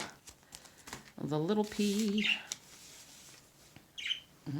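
Pet birds give short squawks and bright chirps in bursts around a person's vocal sounds, fairly close in a quiet room.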